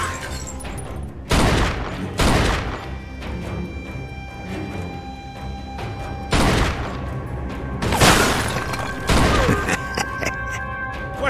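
Gunfire in a Mafia game shootout, loud bursts and sharp cracks arriving in clusters with short lulls between, close and forceful against background game sound.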